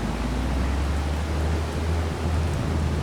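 Steady rain in Farming Simulator 22, a constant, even hiss of falling water over a low rumble, unbroken for the whole stretch with no voices.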